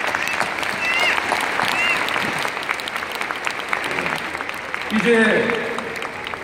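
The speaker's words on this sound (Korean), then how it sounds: "큰 감사의 박수를 올려주시기 바랍니다" A large audience at a wedding blessing ceremony applauds, dense sustained clapping filling the whole stretch, with a brief spoken word and some voices near the end.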